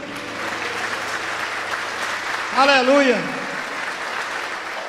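A church congregation applauds steadily throughout, with a brief sung or called-out voice rising above the clapping midway.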